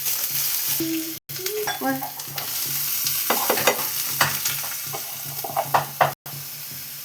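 Cumin, bay leaf and onion hit hot oil with a steady close sizzle, while a spoon scrapes and stirs through the pan; a single spoken word briefly cuts in.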